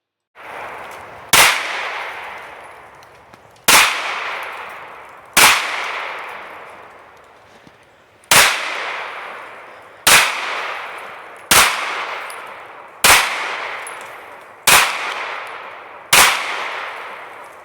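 Girsan MC P35 pistol fired at a shooting range: nine loud, sharp gunshots spaced a second or two apart, each cracking sharply and then decaying into a long echoing ring, with no talk.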